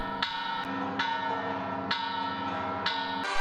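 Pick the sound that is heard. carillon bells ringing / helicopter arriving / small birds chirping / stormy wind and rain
carillon bells ringing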